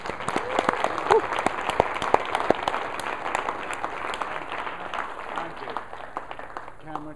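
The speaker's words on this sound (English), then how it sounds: "Can we get a round of applause one more time?" A hall audience at a diversity event gives a sustained round of applause, full and steady at first and then gradually tapering off, with faint voices underneath.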